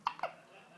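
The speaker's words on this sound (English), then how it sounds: "You always get the hiccups, don't you, after every feed?" A baby hiccups after a feed indoors: two quick, soft hiccups close together, near and fairly quiet, followed by stillness.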